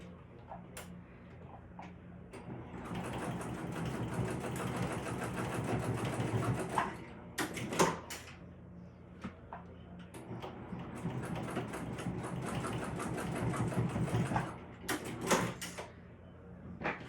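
A sewing machine stitches down bag straps at a quarter-inch seam, running in two long steady bursts with a short pause and a few clicks and knocks between them, close and fairly loud.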